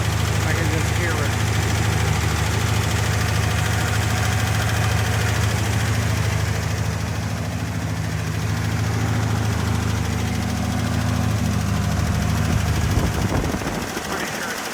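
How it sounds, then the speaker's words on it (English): A car engine idles with an exhaust manifold leak, giving off a steady, rough low rumble that runs on evenly for several seconds before easing slightly at the end, with someone talking over it. "I'm pretty sure it's got an exhaust leak somewhere on the manifold here."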